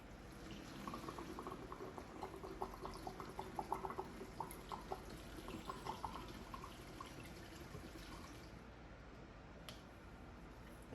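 Liquid poured into a dirty glass bong during deep cleaning, a steady bubbling, gurgling stream at close range that runs for several seconds and then eases off.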